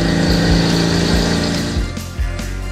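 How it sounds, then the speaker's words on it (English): A power tool cutting slots into a metal sword handle piece for a Thanos sword build, a loud, steady grinding whine with small dips in pitch as the cut bites, continuous and close. "So now we need to cut some slots into our handle piece"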